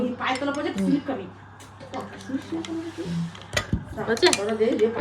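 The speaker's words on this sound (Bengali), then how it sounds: "এই যে থালা বাসন যা ছিল ছাদে সব এখন নিচে নিয়ে যাচ্ছি" Plates, pots and utensils clink and clatter as dishes are gathered up on a rooftop in a home, with scattered metallic knocks and scrapes while people talk nearby.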